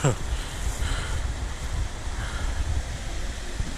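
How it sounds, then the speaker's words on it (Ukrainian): A stream flowing over stones in the Molochnyi Kamin cave in Zakarpattia, a constant broadband rush of water that stays steady and fairly near throughout, with no voices heard. "А внизу струмок тече. Вон скаче по камінню."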